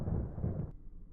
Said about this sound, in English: Oh, I think I heard thunder.